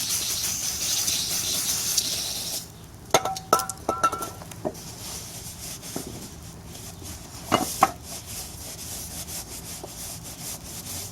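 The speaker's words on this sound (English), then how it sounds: "take this broken can of brake cleaner and just kind of wipe the rotor down" Brake cleaner hisses from a spray can onto a 2004 Kawasaki Concours 1000 rear brake rotor for a couple of seconds, followed by quieter rubbing, wiping and light metallic clinks as the rotor is cleaned.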